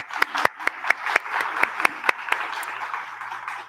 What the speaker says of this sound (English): So just a round of applause for Sarah